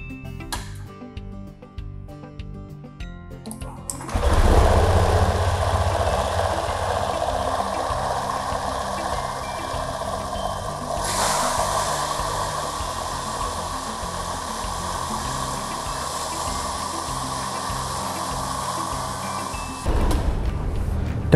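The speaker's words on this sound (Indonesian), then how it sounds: "Marilah kita coba kinerja sistem injeksi pada putaran idle, putaran menengah, sampai putaran tinggi." Car engine during a fuel injection test: quiet at first, then a loud idle drone that rises as the revs climb to medium and high rpm and drops back near the end, heard close with no speech.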